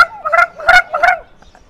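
A person imitates a chicken's clucking in a few quick, loud, nasal bursts close to the microphone, each trailing off, with no other voices.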